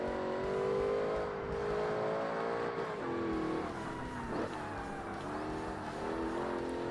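Race car engines from Forza Motorsport roar steadily at close range, pitch rising and falling through gear changes with a brief dip and tyre scrub midway, without any voices.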